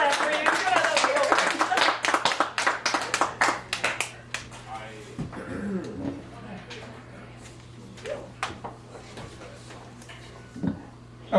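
Audience clapping at a poetry open mic in a cafe gallery, starting as a dense burst of hand claps, then thinning into scattered claps that fade out while voices talk over it.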